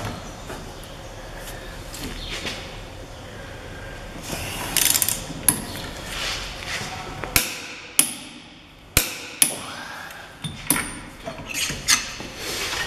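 An air impact gun works on the drive shaft of a Citroen during front wheel bearing replacement, firing in repeated sharp, loud rattling bursts with pauses between, close by.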